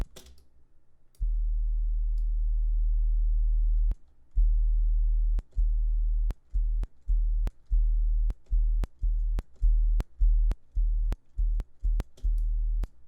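A deep 808 sub bass plays in a sequence of repeated notes, processed through a compressor at attack settings of 100 and 50. It starts with long sustained tones, then gives a steady run of shorter punchy hits with clicky attacks, with no talk.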